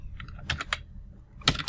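Typing on a computer keyboard while editing text in Vim, with two short bursts of clacking keystrokes separated by a brief pause, close and fairly quiet, with no talking.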